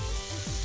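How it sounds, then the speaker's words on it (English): Onions and ginger stir-fry in a hot wok for shrimp fried rice, giving a loud, continuous, close sizzle without a break. "that sizzling sound, that's the sound you want when you're cooking in a wok"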